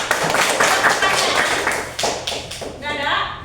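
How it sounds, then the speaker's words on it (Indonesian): A classroom group claps in a burst of applause, dense patting and slapping that thins out and fades, with a voice speaking over it. "Tepuk tangan untuk kelompok 3."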